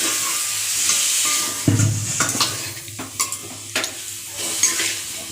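Chilli powder fries in a pan as a little water goes in, giving a sudden louder bubbling burst over the steady sizzle, followed by scraping stirs and utensil clinks against the pan, close and without speech.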